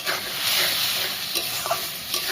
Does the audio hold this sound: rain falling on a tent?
no